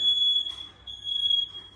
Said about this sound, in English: And the alarm goes off again.